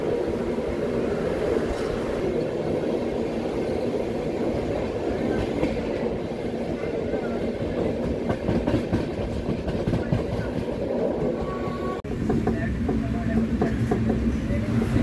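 The Godavari Express, a passenger train travelling from Visakhapatnam to Hyderabad, runs along the tracks with a steady, loud rumble and rhythmic wheel clatter heard from inside the coach, continuous throughout.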